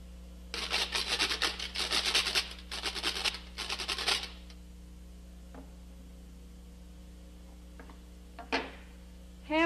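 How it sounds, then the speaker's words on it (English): A kitchen grater scraped in quick rhythmic rasping strokes, three close bursts over a few seconds, then quiet with a couple of faint knocks. "Grater."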